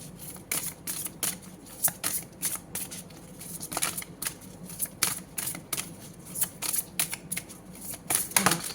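Oracle cards being shuffled and drawn, a long run of crisp, close riffling slaps and flicks in quick irregular bursts with no talking.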